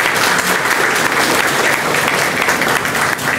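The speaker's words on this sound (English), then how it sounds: "Can we get a round of applause for Small Business Week?" Loud, close applause from a crowd at a Small Business Week kickoff press conference, continuous and dense throughout.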